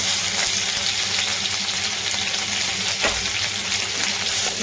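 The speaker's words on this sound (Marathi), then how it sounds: "आलं लसूण पेस्ट आपण छान परतून घेतली." Ginger garlic paste frying in two spoons of oil for a chapati veg roll, a loud, continuous sizzle and crackle, with occasional stirring scrapes in the pan.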